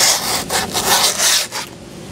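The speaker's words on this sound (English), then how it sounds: "you wanna be able to sand the edges down" Grip tape edges on a 10-inch wide egg-shaped skateboard deck are sanded down with quick rough rubbing strokes, loud and close, in a brisk back-and-forth rhythm with no talking.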